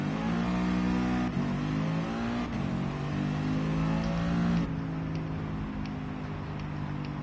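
Mercedes-AMG engine revving in Gran Turismo Sport, a loud sustained whine that rises through several gear changes with sharp breaks between them, heard close up with no talking.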